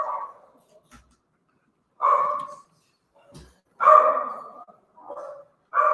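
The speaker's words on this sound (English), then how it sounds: "The dogs are going nuts." Dogs barking downstairs in a house, a series of sharp, fairly loud barks in separate bursts with short gaps between them, no voices.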